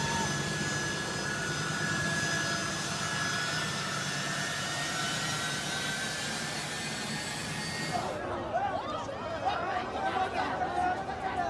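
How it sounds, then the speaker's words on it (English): A U.S. Air Force jet aircraft taking off at Kabul airport gives a loud, steady engine roar with a high whine. The roar runs unbroken and shifts partway through, with crowd chatter underneath. "this U.S. Air Force flight was attempting to take off"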